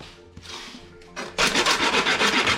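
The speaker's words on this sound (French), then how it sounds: "Et on va finir à la lime." Hand file rasping across wood, a few soft scrapes first, then a loud, rhythmic run of quick back-and-forth strokes at close range with no talking.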